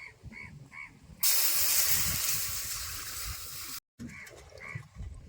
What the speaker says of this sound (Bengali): এবারে জল দিয়ে দেবো কড়াইতে